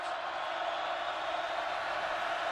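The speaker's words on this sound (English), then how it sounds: "this crowd noise and the momentum is getting to him" Crowd noise fills a stadium at a TCU at Kansas State college football game, a dense, steady roar that holds the same level throughout without breaks.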